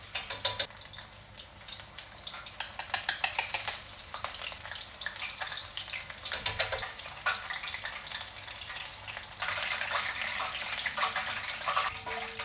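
Shrimp tempura fries in hot oil, a bright, crackling sizzle with bursts of louder spattering that rise and fall, close and without talk.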